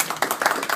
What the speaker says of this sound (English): All right, let's give him a clap.